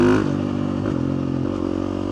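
A Husqvarna 350 dirt bike engine roars close and loud during a third-gear power wheelie, a sustained rasping drone with a brief pitch shift early on, then holding steady throughout.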